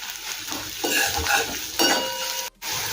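Chopped onion, ginger and garlic fry in a pan with salt, a steady broadband sizzle with scraping stirs throughout, close and fairly loud, briefly cutting out near the end before resuming.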